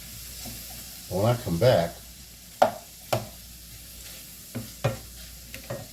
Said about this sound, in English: So I'm going to turn the fire down some. Stir these around.